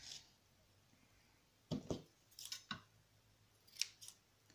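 Scissors snip paper for a shabby-chic flower embellishment in a quiet room: a few crisp, close cuts in short bursts, then small clicks.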